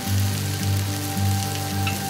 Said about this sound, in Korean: 적당히 소금간이 밴 고등어를 연탄불에 바삭하게 구워낸 고갈비도 이즈음 탄생한 요리지요.